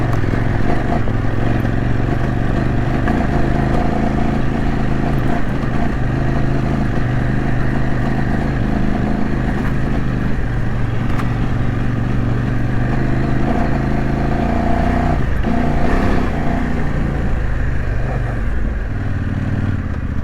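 A trail motorcycle ridden off-road through a forest over small holes and roots, its engine droning steadily and close with rattling clatter and brief rev changes throughout, no talking.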